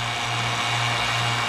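A two-stage vacuum pump runs steadily with its valve closed and no load, giving a loud, continuous motor hum with a strong low tone and broad hiss, unbroken throughout and with no one speaking.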